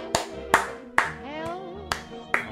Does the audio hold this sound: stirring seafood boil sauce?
no